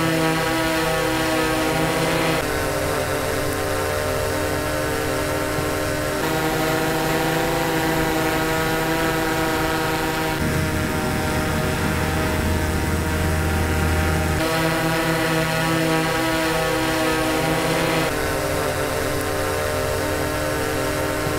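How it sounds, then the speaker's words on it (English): DJI Mavic 3 drone in flight fitted with Master Airscrew stealth propellers, giving a steady, loud tonal buzz with stacked harmonic whine that shifts pitch slightly as the drone maneuvers, with no voices. "So what Master Airscrew does is they try to lower the pitch a lot of times to make it less annoying."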